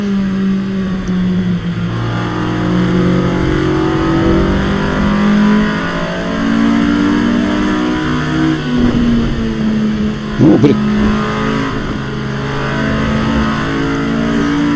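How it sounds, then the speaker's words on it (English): Honda race car engine in the racing game Assetto Corsa Evo, revving hard and continuously with rising and falling pitch through gear changes, loud and dominant for the full stretch. "This Honda does sound good."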